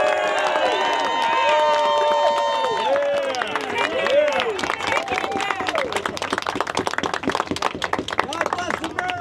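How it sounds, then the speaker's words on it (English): A crowd at a Republican campaign event gives a standing ovation for its candidates, with sustained clapping and cheering that builds into dense applause, while voices call out and a speaker talks over the start. "Let's give a great standing round of applause to all of our Republican candidates."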